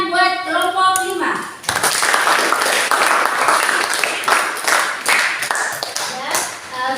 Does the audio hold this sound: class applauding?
yes